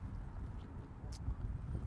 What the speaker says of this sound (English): you can come here and pet the horses on a Sabbath afternoon